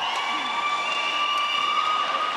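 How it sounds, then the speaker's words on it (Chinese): Audience at a badminton team tournament final cheering and applauding, a steady, dense crowd roar with scattered shouts, sustained and fairly loud throughout. "现场的观众朋友们，我觉得可以给予一个热烈的掌声跟欢呼声"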